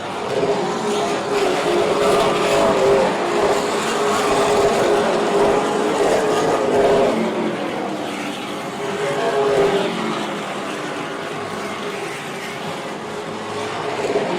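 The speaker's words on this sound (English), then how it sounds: "Single file all around Oyster Speedway, Kent Vinson and the 52 of Dustin Tucker locked in a battle near the rear of the field." Super late model stock cars race around the Oyster Bed Speedway oval. Their engines make a loud, continuous roar that swells and fades as the pack passes.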